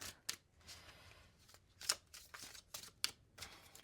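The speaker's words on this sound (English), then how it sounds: "Let's give this a little shuffle." Tarot card deck being shuffled by hand: several crisp riffling and slapping bursts spaced through a quiet room.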